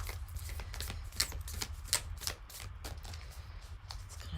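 An oddly shaped Alchemy tarot deck by Kim Krantz being shuffled by hand, giving close, quick papery riffles and soft card slaps in an irregular rhythm over a low background rumble.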